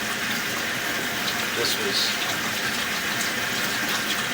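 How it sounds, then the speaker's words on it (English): Water running steadily through a residential drain pipe, a broad continuous rushing wash that stays loud and even throughout, with a person briefly talking over it. "Now with the water running through here, it's going to be a little higher"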